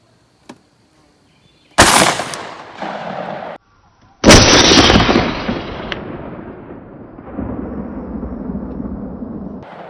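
Two heavy 10 gauge sabot slug shots boom at an outdoor range, each a sharp, loud blast followed by a long rolling echo, with a short gap between them.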